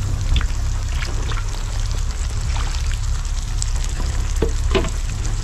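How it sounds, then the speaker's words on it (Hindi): Onions sizzle steadily in a kadhai while soybean gravy is prepared, a loud continuous frying hiss with a low bubbling bed and occasional scraping stirs, no voices. "इसको भून लेते हैं"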